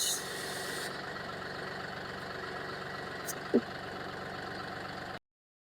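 A tractor converted into a JCB-style backhoe idles with a steady, even engine rumble, close and continuous, with one brief knock partway through before the sound cuts off.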